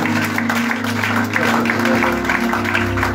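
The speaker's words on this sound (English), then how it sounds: "Please give him a big hand" An audience at a church sermon gives a round of applause, a continuous wash of clapping over a low steady hum from the hall's sound system, sustained for several seconds.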